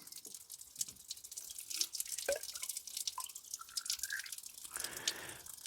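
Coolant dribbles from an Allis Chalmers B tractor, a slow trickle of irregular drips and splashes close by.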